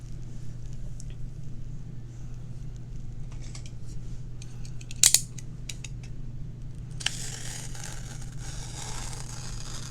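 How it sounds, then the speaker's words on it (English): A blade cuts open a cardboard subscription box, with a faint scrape and a brief sharp snap, then a steady rasping slice near the end, quiet and close with no talking. "let's cross our fingers and cut this box open"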